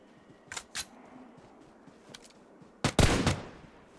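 Gunfire in the video game PUBG on the Livik map: two short shots near the start, a faint one midway, then a loud close burst of several rapid shots near the end.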